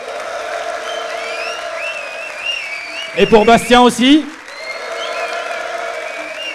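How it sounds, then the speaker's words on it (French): A live audience at a public NBA podcast taping in a Paris cinema applauds steadily over background music, breaking off in the middle for a short spoken line before the clapping resumes. "Vous pouvez continuer évidemment d'applaudir"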